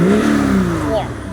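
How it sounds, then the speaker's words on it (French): A VW Golf 2 Rallye diesel engine given a quick blip of throttle, a short loud rev rising then settling back toward idle, close by. "je mets 1 ou 2 coups de gaz"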